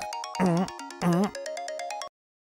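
A synthesized phone ringtone plays a short bright melody with two swelling bursts, then cuts off abruptly into silence.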